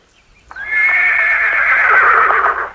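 A horse gives one long, loud, close whinny that rises sharply and holds for about two seconds before trailing off, with no talking.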